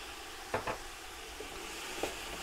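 Small onions and paprika sizzle quietly in a pan for a Bulgarian monastery vegetable stew, giving a soft, even hiss with a couple of brief taps near the start and one more later.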